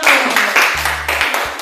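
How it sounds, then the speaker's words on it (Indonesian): Brief burst of applause in a classroom presentation setting, several scattered claps over a low hum, close and fairly loud. "Oke, baik, berikan aplaus dulu."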